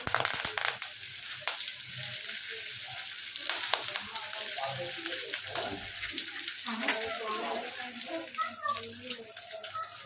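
Cashews, curry leaves and green chillies frying in oil for chicken lollipops, a close crackling sizzle with popping spatters and stirring, with speech in the background.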